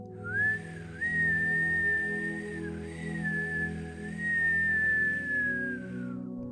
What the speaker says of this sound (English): inhale through puckered mouth and whistle